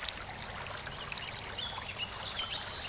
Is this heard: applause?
no